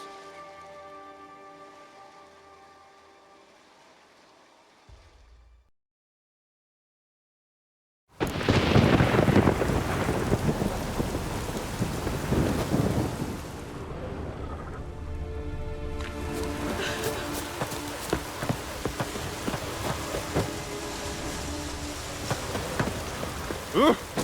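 Rain and thunder from the game The Witcher 3: faint tonal music fades to silence, then a loud, steady wash of heavy rain with rumbling thunder swells and crackles continuously to the end.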